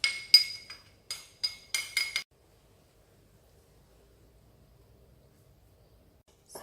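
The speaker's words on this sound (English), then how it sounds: "I've got here about 200 grams of icing sugar and 2 big tablespoons of cocoa powder. I'm going to sift and mix them together." A metal utensil stirring icing sugar and cocoa powder in a bowl, heard as a quick series of sharp, bright clinks and scrapes in short bursts, then near silence.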